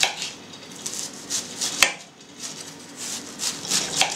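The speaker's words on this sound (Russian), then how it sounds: "Что-то я так шинкую капусту, что у меня аж весь стол трусится." A knife finely shreds fresh cabbage on a board, making a steady rhythm of crisp close-up slicing strokes with one sharp knock partway through.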